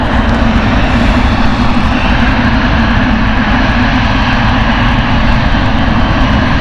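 An aircraft engine roars loud and close at Stansted Airport, a dense, steady drone that holds at full strength throughout without any voices.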